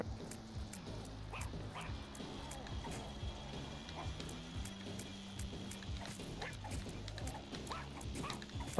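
Small dog-like yips and whimpers from The Binding of Isaac: Rebirth, low in level and mixed with busy game effects and music, with a sharp sound at the very end.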